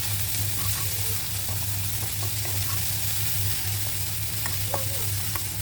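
Dried loitta fish fries in spiced oil in a pan with a continuous close sizzle and scattered small crackles and pops over a low steady hum, no one speaking.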